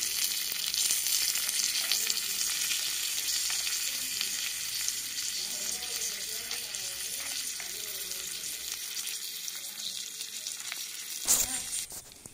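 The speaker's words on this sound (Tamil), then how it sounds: "கொஞ்சம் பூண்டும் வெங்காயமும் ஆட் பண்ணிக்கலாம் நல்லா வதக்கிக்கோங்க" Garlic and onion sauté in a pan with a steady, close hiss of frying that carries throughout, with a few faint stirring scrapes near the end.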